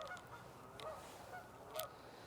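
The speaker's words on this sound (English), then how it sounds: "There goes some geese." Geese honk overhead at sunrise in Allegany State Park, a few faint, distant calls spaced out over a quiet outdoor background.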